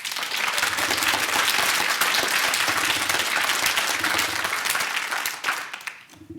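An audience breaks into loud, dense clapping at a committee meeting on agriculture and rural affairs, sustained for several seconds before tapering off, with murmured voices underneath.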